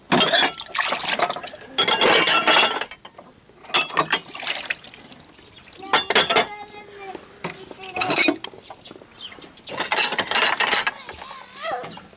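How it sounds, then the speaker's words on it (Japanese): Water splashes and pours into ceramic tableware amid a pile of scrap pottery dishes at a scrapyard, coming in bursts with clinks and pauses, while people talk nearby. "水入る。"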